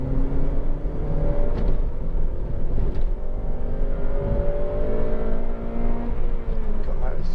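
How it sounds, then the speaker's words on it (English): A Honda Civic Type R with a 2.0 i-VTEC engine pulls hard through the revs, its rising engine note loud and steady with a couple of shifts, heard from inside the car with someone talking over it. "God, that is just an amazing engine. It really, really is, and that's not even at the red line."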